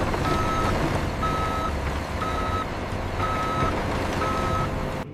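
A diamond mine haul truck backs into position, its reversing alarm sounding five evenly spaced beeps over a loud, rumbling diesel engine.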